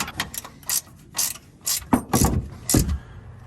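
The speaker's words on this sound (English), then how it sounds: "If these spin while you're trying to tighten this nut, you can hold these with a wrench." A wrench clicks and ratchets in short bursts while nuts are tightened on a 4-inch Rough Country lift kit for a 2016 Ram 1500, with about seven quick metallic clusters, close and moderately loud, and no talk.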